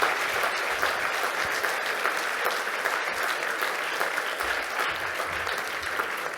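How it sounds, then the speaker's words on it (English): Steady audience applause fills a hall at the 13th EURORDIS Black Pearl Awards, a dense, even wash of many hands clapping with no pauses, sustained at moderate volume throughout. "One last round of applause for Jan LeCam."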